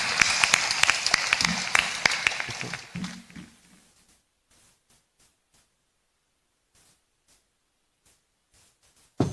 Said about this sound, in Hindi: एक बार ताली बजाकर इनका अभिनंदन करें